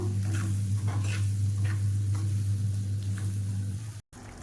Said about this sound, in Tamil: நான் ஒரு மூணு தக்காளி வந்து சேர்த்துருக்கேன் இப்போ சேர்த்துட்டு நல்லா அந்த தக்காளி நல்லா சேர்ந்து நல்லா வதங்கணும்